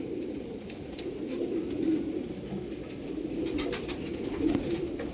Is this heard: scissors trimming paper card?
no